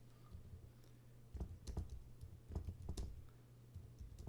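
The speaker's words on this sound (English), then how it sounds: "Sorry, I'm typing something in." Keys on a computer keyboard click in irregular, soft bursts of typing, close but quiet over a low background hum, with no voices.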